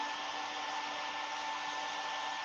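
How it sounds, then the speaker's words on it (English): Shop vacuum running during woodturning sanding, a loud steady broadband whoosh with a faint whine, continuous and even throughout with no talk over it. "when I turn this vacuum on, is it real loud?"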